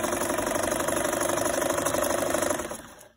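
A NewHome Model 950 sewing machine, rescued from a skip, runs steadily with a fast, even mechanical clatter and hum up close, then winds down and stops near the end.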